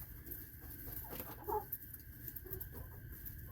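Backyard hens cluck softly and intermittently in an early-morning yard, a couple of brief louder calls standing out over a steady murmur of ambient noise, with no talking.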